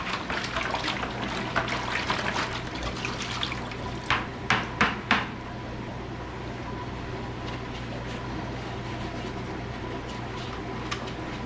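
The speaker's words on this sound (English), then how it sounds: "We're gonna go ahead and rinse these out." Aquarium filters from a Red Sea 425 XL reef tank rinsed under running water, a steady close rush of flow with a few knocks and splashes early on, then an even stream, no voices.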